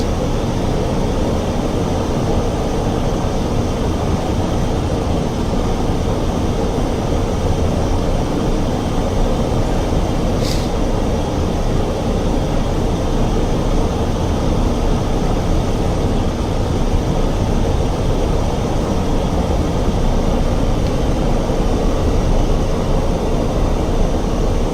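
A jet aircraft taxiing to a parking spot at an airport gives a loud, steady, unbroken engine roar that fills the whole stretch, with no talking.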